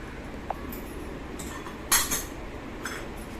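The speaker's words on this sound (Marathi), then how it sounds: "एकदा हलवून फिरवून घेऊया चमच्यानं" A metal spoon clinks lightly against a pot while jaggery tea is stirred, with a few scattered taps and one louder clatter near the middle over a soft background hiss, without any speech.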